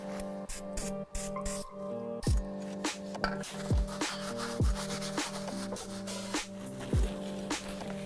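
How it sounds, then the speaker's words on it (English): A rusty brake caliper on a 1985 C10 pickup is wiped down with pre-painting prep cleaner, giving steady close rubbing and scrubbing strokes with repeated sharp swipes over a constant background hum. "Now we can clean this with a little bit of pre-painting prep."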